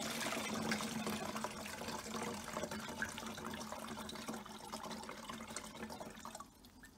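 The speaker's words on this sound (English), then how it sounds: "Now it's time to add the water to your bottle." Water is poured into a bottle for an ocean-in-a-bottle craft, giving a faint, steady trickling and splashing that runs for several seconds before tapering off.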